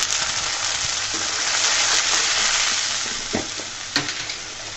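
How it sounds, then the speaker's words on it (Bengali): Fish sizzles steadily in hot oil with salt, turmeric, red chili powder and fish masala, a loud, dense frying hiss with occasional stirring clicks and pops near the end, no voices. "রাঁধুনি মাছের মশলা দিয়ে সুন্দর করে মশলাটাকে আমি কষিয়ে নিব"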